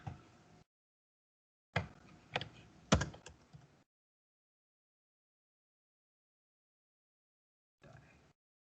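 A computer keyboard is heard as Python code is typed, in short bursts of clattering keystrokes separated by gaps of near silence, close and fairly clear, with no talking.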